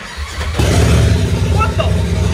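A side-by-side's engine turns over and catches, rising into a loud, rough idle with a brief rev, close by; voices sound faintly over it.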